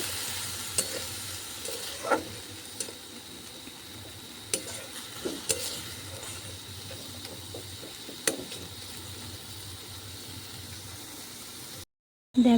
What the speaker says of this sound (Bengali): দেখো আমার পোস্ত ভাজাটা একদম রেডি হয়ে গেছে